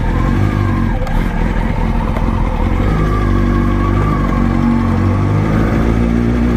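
A Kawasaki ZX6R sport motorcycle being ridden gently on freshly fitted tires, its engine droning steadily and loudly close by, with small shifts in pitch as the throttle changes and no talking.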